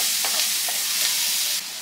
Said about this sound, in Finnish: Vähän sipulia. Pientä kuulotusta.